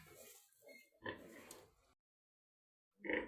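Soft grunting oinks from newborn piglets come in short bursts, then a pause of silence before another brief snuffly grunt; quiet and close.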